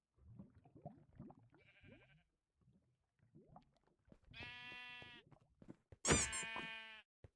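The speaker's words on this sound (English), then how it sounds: "Also, hurry up and turn off the sheep." Minecraft sheep in the Skyfactory 5 modpack give two loud, close bleats, one after the other, between scattered clicks and quieter game sounds.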